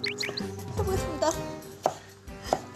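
A knife chopping vegetables into thin julienne strips on a cutting board, heard as a few sharp, close taps among quieter kitchen sounds and faint background music.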